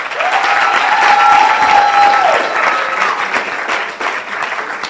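Loud, sustained audience applause and cheering at a symposium, a dense wash of clapping that holds steady for several seconds before easing slightly, with a brief whistle-like tone near the start.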